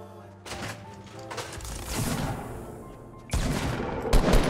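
Gunfire in a Fortnite Battle Royale match, heavy bursts of shots and impacts that swell and drop, with a loud cluster near the end, close and without speech.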